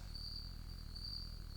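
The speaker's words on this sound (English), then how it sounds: "and crickets." Crickets chirp in a workshop where a 1987 Camaro axle is being modified to fit a 1940 Chevy, a steady, faint, continuous high trill with no talking.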